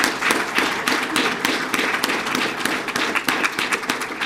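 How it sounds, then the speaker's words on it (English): Audience clapping for police officers at a Sarasota Police Department swearing-in and promotional ceremony, a steady, fairly close round of applause with dense overlapping claps that holds for several seconds. "please give our officers a round of applause for that"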